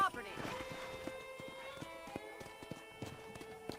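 Horse hooves clip-clop in Red Dead Redemption, with irregular thuds from a riding horse mixed with game ambience and a brief whinny-like sound, fairly faint.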